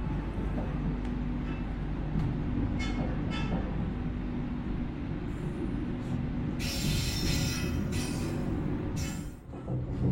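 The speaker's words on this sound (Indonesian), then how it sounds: "kereta api Argo Wilis diberangkatkan kembali dari stasiun" The Argo Wilis train pulls away from Madiun station with a steady low rumble of wheels and carriages, joined near the end by a bright hiss or squeal; loud and continuous throughout.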